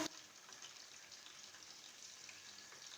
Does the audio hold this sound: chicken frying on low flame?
yes